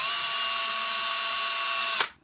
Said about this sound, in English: take the 1/16 scale drill bit and blow out the hole a little bit